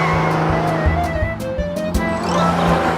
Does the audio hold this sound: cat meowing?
no